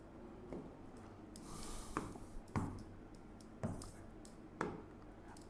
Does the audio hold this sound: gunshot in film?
no